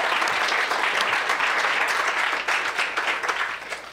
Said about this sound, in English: Just give a round of applause one more time for Deanna.